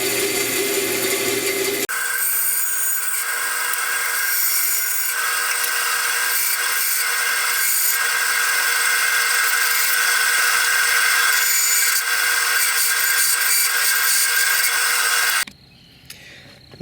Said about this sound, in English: So here we are at the bandsaw. Let's go ahead and cut this prop.